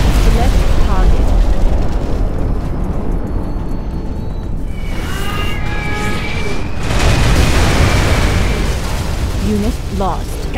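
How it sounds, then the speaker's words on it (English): A nuclear missile explosion in Command & Conquer Generals Zero Hour rolls out as a loud, sustained roaring rumble with bursts and booms, while game voice lines and tonal effects sound over it. "We have launched our nuclear missile"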